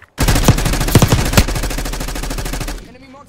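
Rapid sustained automatic rifle fire from an enemy marksman in Black Ops 6 roars loud and close in a dense burst lasting nearly three seconds, then cuts off abruptly.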